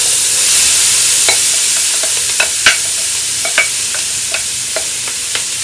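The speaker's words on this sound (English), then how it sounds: "now we're going to stick our veggies in there." Vegetables sizzle in a pot of dark gumbo roux for chicken and sausage gumbo, a steady close frying hiss broken by scattered clicks and scrapes of stirring.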